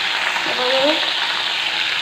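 Green chili paste hits hot oil and sizzles in a steady, close, broadband hiss that fills the two seconds without pause; a faint tonal squeak rises briefly in the middle, and nobody speaks.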